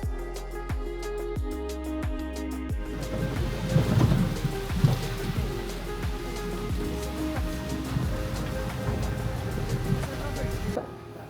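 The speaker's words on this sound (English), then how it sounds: "unfortunately it has been raining so much, which I know that Thailand, it rains a lot." Steady rain falls in Phuket, Thailand, a dense, continuous patter with some heavier bursts, and a few sharp knocking hits sound near the start.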